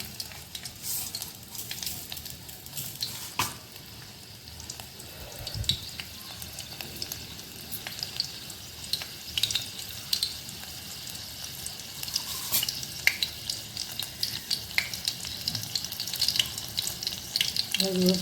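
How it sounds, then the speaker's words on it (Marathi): Crushed garlic frying in hot oil for a spicy mandeli fish curry, a steady moderate sizzle and crackle with scattered pops and clinks from the pan, heard close with no one talking. "तेल आता आपलं व्यवस्थित गरम झाले तो एक लसूण ठेचलेली"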